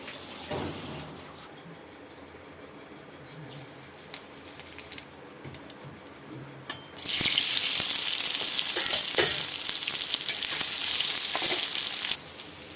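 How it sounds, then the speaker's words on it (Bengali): Chhana (cottage cheese) fritters go into hot mustard oil. Quiet scattered crackles and clinks come first, then a loud, dense, steady frying roar that holds for several seconds before easing off. "গরম সর্ষের তেলের মধ্যে ছানাগুলোর বড়া দিয়ে দিচ্ছি।"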